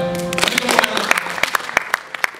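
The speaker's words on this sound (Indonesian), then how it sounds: "Beri tepuk tangan Tuhan sekali lagi" A small gathering claps as applause offered to God: a sustained tone fades at the start, then a handful of distinct, uneven claps ring out close by in a sparse, irregular sequence.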